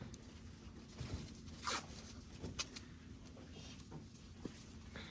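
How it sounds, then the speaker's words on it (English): Adhesive tape torn off a roll to fix a wound dressing in place during sterile wound care, a few short ripping and crinkling bursts, close and fairly quiet, with no talking. "I'm just gonna grab some tape and secure this in spot here."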